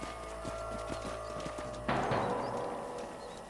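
Horses' hooves in the video game Red Dead Redemption 2, a series of evenly spaced clip-clop steps followed by a sudden louder burst of hoof noise that then fades.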